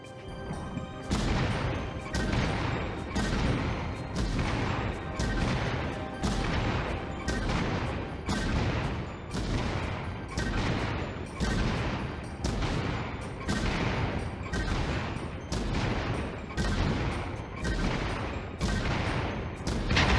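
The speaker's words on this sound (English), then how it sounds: "Please note that the small cannon can shoot faster, but does less damage." Cannon fire from a mech in the VR video game Vox Machinae, played on an Oculus Quest, booms in a long, steady series of loud, evenly spaced shots, about one every second, with no talk over it.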